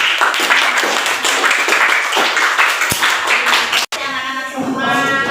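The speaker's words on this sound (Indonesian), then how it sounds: "tepuk tangan dulu buat kelompok bahasa" Schoolchildren clap their hands for a classmates' group in a classroom, a lively burst of overlapping claps that gives way after a short break to children's chatter and talk.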